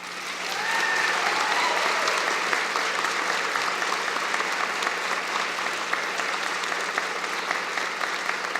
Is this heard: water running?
no